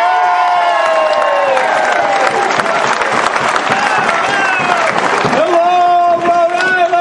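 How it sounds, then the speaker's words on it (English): A crowd applauds, cheers and whoops loudly for Keith Anderson at a Rhode Island event, the dense clapping sustained throughout with a few tonal whistles or shouts rising over it. "Big round of applause for Keith"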